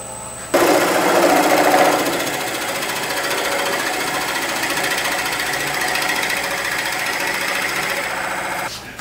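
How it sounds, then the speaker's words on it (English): Drill bit in a Morse taper boring into wood on a lathe turned down to low speed, giving a loud continuous high squeal over a grinding rattle that starts abruptly and holds steady until it cuts off. "I'm getting a lot of squealing like a pig on this drill bit here"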